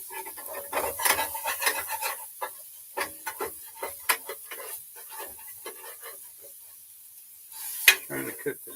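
Finely chopped meat for nachos sizzles and crackles in a pan while being stirred and scraped, with uneven bursts of close spatter and rasping utensil strokes and a few brief quieter gaps.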